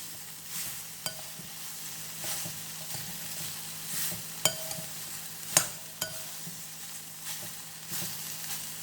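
Soya chunks being stirred and fried in a pan give a steady, close sizzle. The spoon scrapes and clinks against the pan at irregular moments, and no one speaks.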